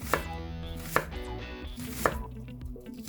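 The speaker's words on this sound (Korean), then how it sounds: "먼저 양파부터 잘라주도록 할게요" A knife chops through an onion on a cutting board in a kitchen, giving three crisp, distinct strikes spaced about a second apart. Quieter handling sounds and room noise fill the gaps between the cuts.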